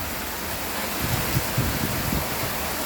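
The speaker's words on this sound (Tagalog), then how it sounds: "Ang lakas ng ulan, pinapasok na ako dito." Heavy rain pours down as a steady, loud broadband hiss that fills the whole stretch, with a few soft low thumps partway through and no speech.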